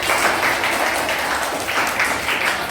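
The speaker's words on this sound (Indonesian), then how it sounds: "Tepuk tangan buat kelompoknya dong." A classroom of students claps for a presenting group, a lively patter of many small hands applauding close by, uneven and sustained throughout.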